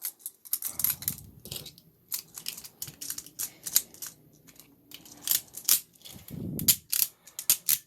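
Beyblade Jet Wyvern parts snap and click together in quick, sharp, close plastic clicks and ratcheting bursts, scattered irregularly with brief pauses and a few heavier handling rattles.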